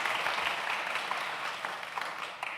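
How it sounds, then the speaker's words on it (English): An audience at a talk bursts into steady applause, a dense, even wash of many hands clapping that carries on throughout. "Yes, you can applaud that"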